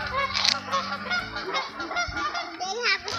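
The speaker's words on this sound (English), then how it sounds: "there's some geese flying over." A flock of geese honking continuously overhead, loud and layered, with a voice faintly mixed in.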